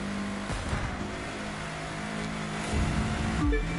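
The Citroën Gran Turismo GT concept car driving in The Crew 2, a steady moderately loud engine drone with shifting pitch and a brief swell near the end.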